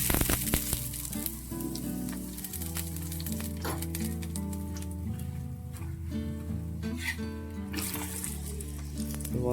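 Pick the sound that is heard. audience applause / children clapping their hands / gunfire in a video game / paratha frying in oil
paratha frying in oil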